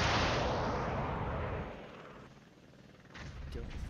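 Heavy tank cannon and gunfire in the video game Flash Point Southern Storm, a loud dense blast of booming fire that dips briefly before rumbling fire resumes.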